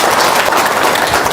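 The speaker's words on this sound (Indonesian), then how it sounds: "Tepuk tangan dong." Dense, steady applause from a seminar audience fills a brief moment, loud and close with no voices over it.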